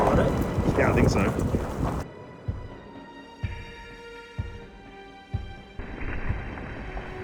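Heavy thunder and rain in a severe storm at a campsite: a loud rumbling crash over pouring rain fades into steady rainfall with scattered sharp knocks, while people talk nearby.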